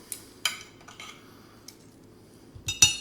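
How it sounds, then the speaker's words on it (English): A spoon clinks and scrapes against plates and a dish as roasted Brussels sprouts and crispy tofu are served, a few sharp close taps separated by quiet gaps. "Going to go ahead and dish this up."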